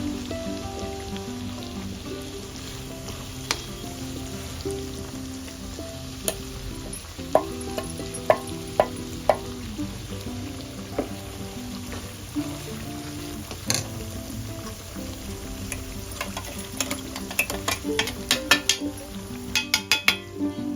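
Chili powder frying and stirred in a pan over a low flame for a bitter gourd pickle, a steady close sizzle with scraping stirs and sharp clicks of a spoon against the pan, no talk.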